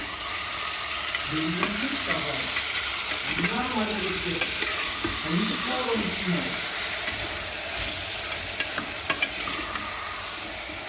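Oil spluttering and crackling in a pan while cooking vangi bath with brinjal, a continuous sizzle with sharp pops and clicks scattered throughout, with a voice talking over part of it.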